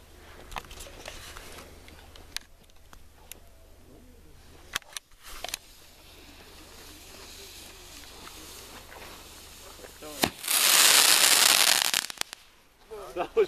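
Fireworks at a campsite crackle and pop in scattered bursts, building to a loud hissing, fizzing eruption near the end, with people talking and reacting nearby.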